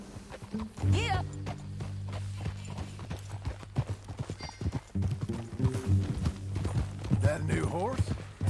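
A horse's hooves clip-clop steadily while ridden in Red Dead Redemption 2, close and rhythmic under bursts of conversation, with a whinny and snorts breaking in, and a music bed faintly underneath.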